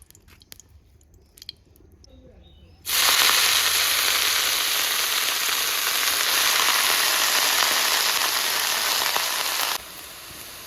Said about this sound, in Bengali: কড়াই গরম হয়ে গেছে, কড়াইতে অল্প তেল দিয়ে শাকটাকে সিদ্ধ করে ভাজিয়ে নিব।